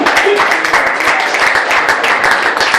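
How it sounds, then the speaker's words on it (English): Comedy club audience applauding comedian Tim Elliott as his set ends, with dense, steady clapping filling the room and some voices underneath. "Big round of applause for Tim Elliott"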